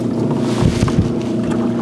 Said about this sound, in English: Motorboat.